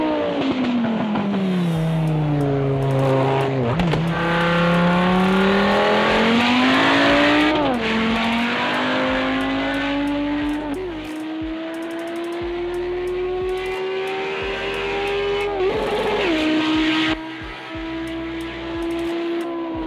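An IMSA GTO race car engine revs hard, climbing through gears in long rising sweeps with sharp drops at each shift, loud and close, with a brief easing near the end before pulling again.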